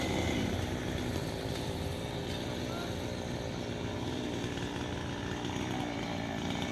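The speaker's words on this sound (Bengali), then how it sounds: "গাছ কাটছে কেমন করে মেশিন দিয়ে" A machine saw cuts into a tree outdoors, its steady engine drone continuous and fairly loud throughout, with faint background voices.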